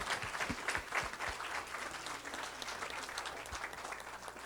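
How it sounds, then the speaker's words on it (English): Sustained applause from a class audience after student presentations, a dense patter of many hands clapping at moderate volume with a few sharper nearby claps, steady for several seconds without talk. "Let's give them another round of applause,"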